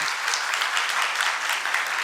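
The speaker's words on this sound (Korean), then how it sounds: "그래서 한번 큰 박수 부탁드리겠습니다." A lecture hall audience applauds steadily, a dense close wash of many hands clapping at once with no gaps.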